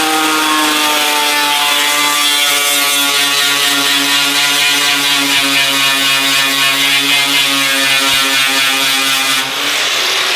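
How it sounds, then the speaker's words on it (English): An angle grinder strips paint from the metal of a chopped 6x6 Land Cruiser being readied for a 4x4 expo show, whining loud and steady for the whole stretch, its pitch dipping slightly near the end. "I gotta grind."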